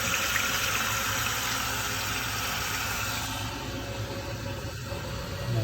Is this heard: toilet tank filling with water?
yes